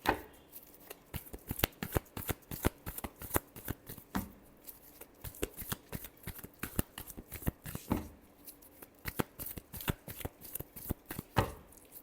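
Tarot cards are shuffled by hand in quick, uneven bursts of crisp riffling and slapping. The sound is close but quiet and continues without pause, with no talking.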